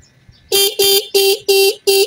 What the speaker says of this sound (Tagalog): test natin kung may busina.